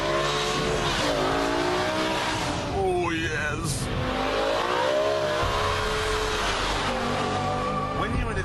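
A BMW E60 M5 saloon car engine revs hard and close, its pitch climbing and dropping continuously, with a brief excited exclamation from a voice over it.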